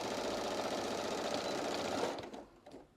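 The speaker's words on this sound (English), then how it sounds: "But now I'm going to sew 1/4 inch from the edge here" A sewing machine runs steadily, stitching a quarter inch from the edge through fabric layered with Insulbrite for a casserole cozy, then stops abruptly near the end, leaving a few faint handling sounds.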